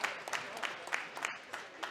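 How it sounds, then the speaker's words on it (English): Spectators in the Ice Castle hockey arena give a steady round of applause for a senior player during a high school hockey game, heard as quiet, distant crowd clapping with faint voices mixed in. "he's going to get a nice round of applause from both sections here at the Ice Castle"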